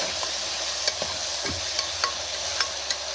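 Fenugreek leaves fry in a pan under a steady low sizzle, with light, regular scrapes and taps as they are stirred, close by and with no one talking.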